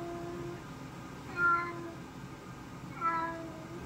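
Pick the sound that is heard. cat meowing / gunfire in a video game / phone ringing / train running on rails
cat meowing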